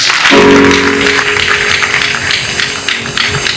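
A church congregation claps in sustained, dense applause that fills the room evenly and loudly from start to finish, with no voices.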